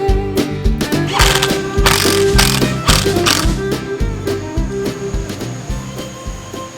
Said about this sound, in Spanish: Vamos a ponerle unos cuantos tirafondos para aguantarlo en su lugar